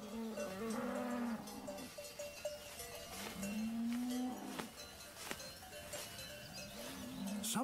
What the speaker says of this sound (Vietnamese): khi thời tiết đủ ấm để những con bò được đưa lên những đồng cỏ trên núi cao này